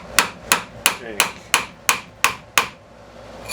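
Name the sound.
hammer striking the lip of a ring shank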